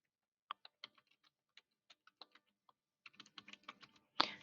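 Keys tapped on a computer keyboard in scattered single presses, then a quicker run of keystrokes, quiet and close, ending with a louder clack.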